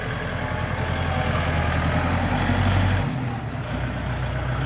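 Kubota L4708 tractor mowing grass in a palm plantation, its diesel engine droning steadily and loudly with a low rumbling pulse throughout, briefly dipping in tone partway through.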